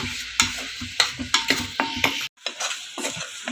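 A spoon stirs about 100 grams of jaggery lumps in a pan over a medium-low flame so they melt. It makes quick, repeated scraping clinks over a soft sizzle, up close and with no talking.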